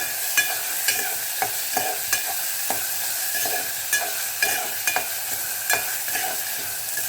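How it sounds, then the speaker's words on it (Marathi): Chopped onion sizzles steadily in hot oil for a Malvani crab curry, with a spoon scraping and stirring through the pan in irregular knocks over a constant frying hiss. "आता हे छान तेलामध्ये भाजून घेऊया."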